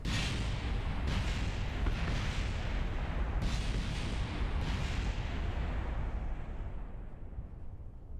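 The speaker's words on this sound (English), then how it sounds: "Is everybody satisfied with the amount of explosions we just had there?" Rocket explosions in the video game Kerbal Space Program during live rocket testing: a dense, sustained roar of booming blasts and crackling bursts, loud and continuous throughout, with a few sharper hits, tapering slightly toward the end.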